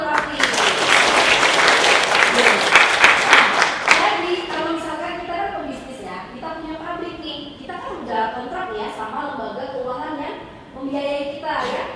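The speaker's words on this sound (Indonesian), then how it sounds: "Tepuk tangan buat Rafli" An audience at a teaching session claps loudly for about four seconds, then the applause fades and someone talks with scattered claps underneath.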